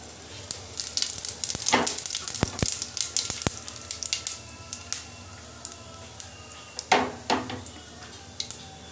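Cumin seeds sizzling in hot oil, a soft crackling fizz with scattered sharp clinks of a spoon against the pan, close and fairly quiet.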